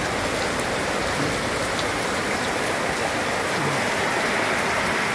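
Heavy Typhoon Carina rain pours down in flooded Malabon as floodwater overflows a street canal, making a dense, unbroken roar of falling and rushing water, loud and steady throughout, with no voices heard.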